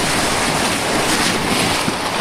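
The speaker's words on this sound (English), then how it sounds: "see these waves coming at us. There's some big ones out there." Big ocean waves crashing against a pier during Hurricane Sandy, a continuous loud roar of surf heavily mixed with wind buffeting the microphone, no voices.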